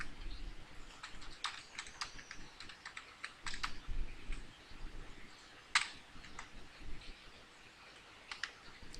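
Steady typing on a computer keyboard while text is entered into a graphics program, with clustered key clicks in an uneven rhythm, close and fairly quiet, with no talking.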